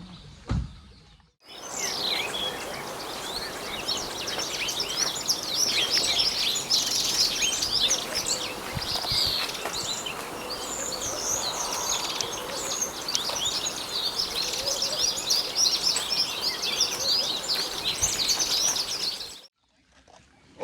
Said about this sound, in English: so that's brimstone canary in the bag, 700th bird